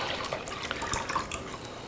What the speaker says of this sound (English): that's a pint of milk that I put in